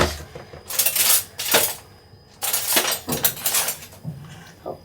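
A spoon scraping and clinking against dishes while mint paste is strained, sharp metallic rattles in several close bursts with short pauses between them.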